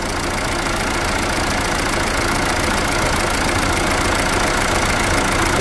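A Fiat Toro diesel engine idles steadily while warming up after an oil and filter change, a continuous close, loud rumble with an even knocking clatter and no talk over it.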